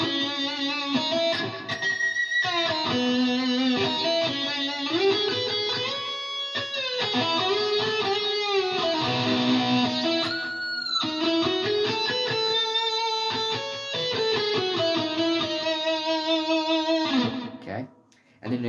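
Distorted electric guitar plays a solo, with sustained bent notes, vibrato and quick runs, loud and continuous for about eighteen seconds before cutting off.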